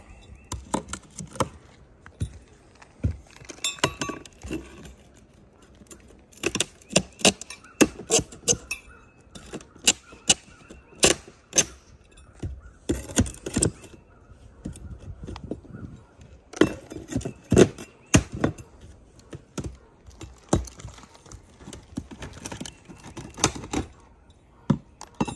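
Nails being pulled out of rotted roof plywood during shingle repair: irregular sharp clacks, taps and creaks spread across the clip, close and moderately loud, with quiet gaps between clusters.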